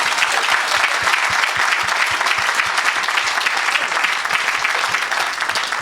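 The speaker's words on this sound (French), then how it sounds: "Est-ce qu'on peut acclamer pour Jésus?" A church congregation applauds together through the whole stretch, dense steady clapping with many hands, loud and sustained, no voices standing out.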